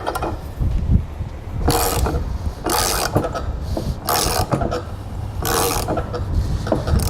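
A ratchet with a 1¼-inch socket spins a nut along the paint-covered threads of a gooseneck hitch ball on a 2015 Chevrolet, clicking steadily in close repeated bursts of ratcheting strokes without talk.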